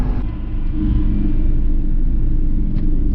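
A Fortschritt tractor engine rumbles loud and close as the tractor drives off. A deep, steady drone holds throughout with a slight rise in effort.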